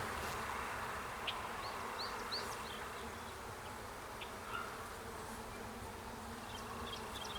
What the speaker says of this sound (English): I've got lots of young bees though.